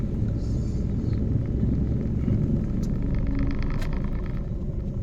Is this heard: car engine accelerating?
yes